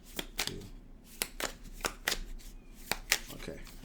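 Tarot cards being shuffled by hand in quick, repeated riffles and slaps, close and soft, with short pauses between bursts and no talking.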